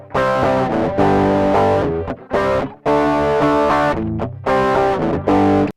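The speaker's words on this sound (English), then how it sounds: "let's go and put a little bit more distortion and then just see" Electric guitar played through an Amazon Basics overdrive pedal with heavy distortion, loud chords ringing out in several bursts with brief gaps between them.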